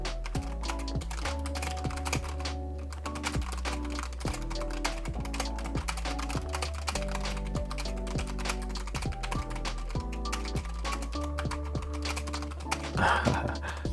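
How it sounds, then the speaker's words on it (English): Steady, rapid clatter of fingers typing on a computer keyboard during a speed typing test, keys tapping continuously and close up for the whole stretch with no talking. "now let's test out the keyboard"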